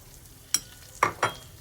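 Meat and tomatoes with red paprika fry in a pan, with a faint sizzle under three sharp stirring clacks, the last two close together.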